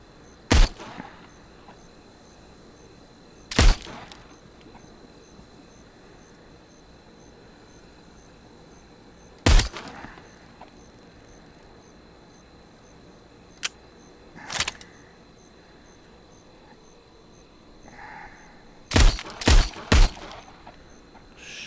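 Gunshots in the VR zombie shooter Arizona Sunshine: sharp isolated cracks spaced out with long quiet gaps, then a quick cluster of three or four shots near the end, loud and close over low background hum.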